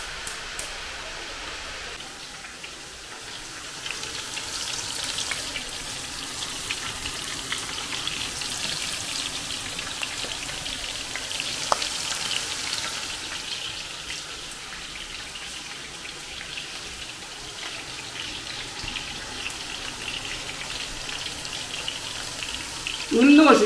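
Potatoes fry in a pan in a home kitchen, a steady soft sizzle and crackle that runs on throughout, with a sharp clatter near the end and people talking now and then.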